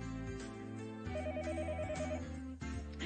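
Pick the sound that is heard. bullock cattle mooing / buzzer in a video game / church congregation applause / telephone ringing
telephone ringing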